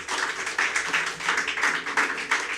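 Church congregation clapping for the Lord, a quick run of sharp, fairly loud claps in an uneven rhythm, heard alone without talk.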